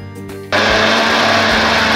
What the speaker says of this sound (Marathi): ती आता आपण मिक्सरला लावून घेऊया।